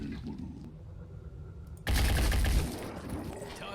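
Gunfire in the turn-based tactics game Phoenix Point: Corrupted Horizons, where a quiet stretch of ambience suddenly gives way to a loud burst of shots and impact noise that holds for under a second before tailing off, with no talking.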